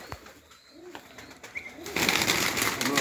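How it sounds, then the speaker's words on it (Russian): A Baku marble pigeon in a Dagestan village loft gives soft, low cooing phrases close by, with brief chirps, before a louder rustling noise fills the last second. "Вот он голубь."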